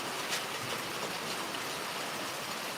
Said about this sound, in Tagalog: Magdabag ang ulan, guys.